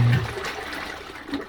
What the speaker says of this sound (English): you can let it agitate to really mix it up